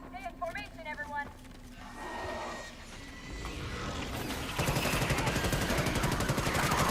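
Sustained automatic gunfire mag-dumping into a swarm of bugs in the Starship Troopers Extermination video game builds into a dense, continuous roar. A voice talks and other game sounds play beneath it early on.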